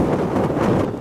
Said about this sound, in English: It's windy out here, so it's hard to get the video